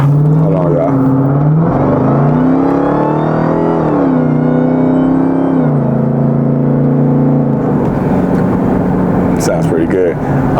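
A Jeep Trackhawk engine runs and revs, its deep drone rising and falling in pitch through several loud swells while someone talks over it.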